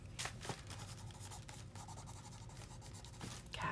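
Soft scratching of pencil on paper, quick strokes and taps in a quiet room, with no voices.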